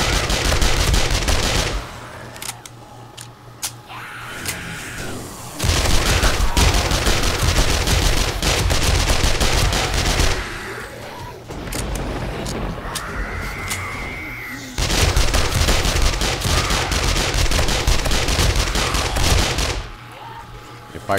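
A submachine gun fires in a zombie survival video game during a horde night, with long sustained bursts of rapid gunfire in several stretches and a voice talking in the pauses between them.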